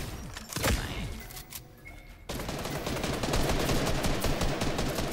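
Rapid gunfire in the Fortnite video game, with scattered shots at first, then after a short lull a dense, continuous burst of automatic fire, close and loud.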